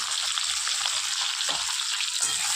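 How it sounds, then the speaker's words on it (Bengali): Pointed gourd pieces frying in hot oil with turmeric and salt, a close, even, continuous sizzle. "এবার লাল করে ভেজে নেব"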